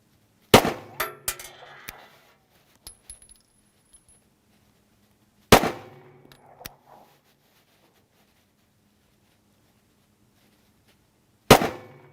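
A SIG Sauer P320 Nitron pistol with a threaded barrel and no suppressor fires three sharp shots spaced several seconds apart at a range. Each report is followed by a few clinks that die away into near silence.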